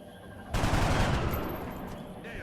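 Gunfire from a soldier shooting at an alien in XCOM Long War bursts in abruptly after a brief lull, a loud dense fusillade of rapid shots that rings out and slowly decays.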